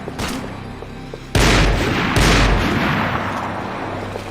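Gunfire in the video game Max Payne 3, heavy booming shots and bursts erupting suddenly, with two big blasts standing out over a dense roar of continuous firing, close and loud.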